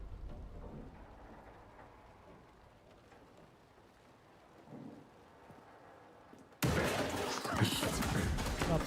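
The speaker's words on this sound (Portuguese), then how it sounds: "E a chuva, cara, a chuva é bem realista também" Rain in a video game shown at Summer Game Fest, a soft hiss of rainfall with low rumbles under faint talk, then an abrupt jump to a much louder, dense downpour or burst of noise near the end.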